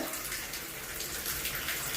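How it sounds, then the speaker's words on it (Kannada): Borewell water runs steadily into a bucket as it fills, a continuous hissing splash at moderate level with no talk. "ಇದೊಂದು ಬಕೆಟ್ ತುಂಬಾಕತ್ತಿ ನೋಡಿ ಫ್ರೆಂಡ್ಸ್"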